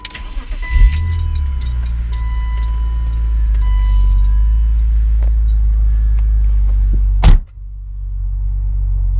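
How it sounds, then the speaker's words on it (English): A used car's engine cranks and catches, then settles into a loud, steady low rumble. Near the end a brief thump interrupts it, and the idle continues after that. "go ahead and just start up the car quickly."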